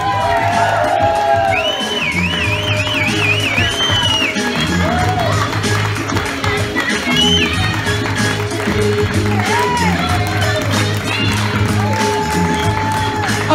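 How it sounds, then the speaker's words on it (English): Guests at a wedding reception at Quidnessett Country Club applaud and cheer as family members are introduced, continuous clapping with whoops and whistles over a low musical hum. "A nice round of applause"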